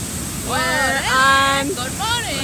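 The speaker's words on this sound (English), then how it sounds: "I don't know if you can hear me or not because the waterfall is so loud." A loud waterfall roars as a constant, close wash of noise through the whole stretch, with a voice carrying over it.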